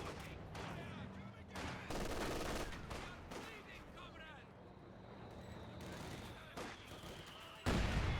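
Mortar rounds boom in the World War II strategy game Company of Heroes 2, heavy 120mm shells thumping repeatedly amid a dense battle din of other gunfire, with a commentator talking over the action.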